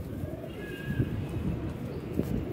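A red-eyed pet pigeon cooing softly, with a few low throaty coos under background noise and a faint whistle-like tone, close by in a pigeon keeper's setting.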